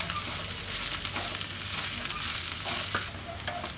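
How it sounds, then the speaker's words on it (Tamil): Peanuts and onions roast in a pan for a ragi adai, giving a steady close-up sizzle broken by scraping stirring strokes, with no talking. "வறுத்த வேர்க்கடலையே இதுலேயே மேலே இருக்க தோலெல்லாம் எடுத்துட்டு நம்ம இதில் போட்டு நல்லா வறுத்துக்கலாம் ஒரு வாட்டி."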